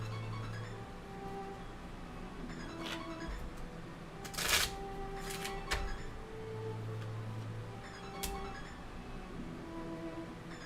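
A deck of tarot cards is shuffled nearby in quiet bursts of riffling and snapping, with a few sharper card clicks over a low room hum.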